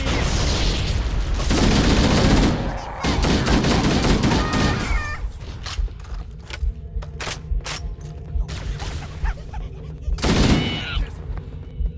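Loud bursts of automatic gunfire and booms in a Halo game, dense at first then thinning into scattered single shots, with game voices shouting over the combat.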